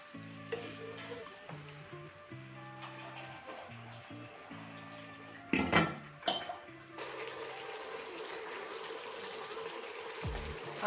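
Water is poured into a hot pan while lasagna pasta sauce cooks, raising a burst of hissing sizzle. Soft stirring and frying sound follow, under light background music.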